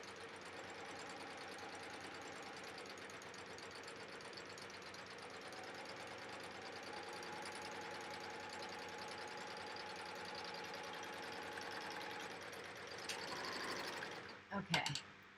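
A serger stitching along fabric runs in a steady, fast mechanical whir at close range, ending with a few brief clicks and knocks as it stops.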